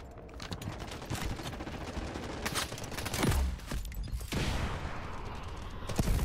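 Gunfire in the mobile shooter Delta Force Mobile comes as loud, rapid bursts and cracks that repeat almost continuously, with a few heavier impacts standing out.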